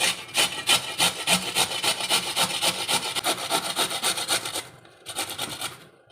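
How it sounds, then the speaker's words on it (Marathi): Kohlrabi rubbed against a hand grater makes a rapid, rhythmic rasping, loud and close, with a short pause before a few final strokes. "तर आता आपण हे किसणीवरती किसून घेणार आहोत"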